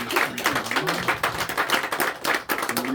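A church congregation claps during a Sunday morning worship service after a prayer, with lively, uneven clapping across the room mixed with brief voices and a few taps.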